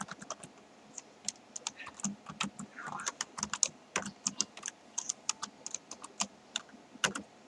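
Fingers type on a computer keyboard at close range, a quick irregular run of crisp key clicks with brief pauses between bursts, fairly quiet and with no talk.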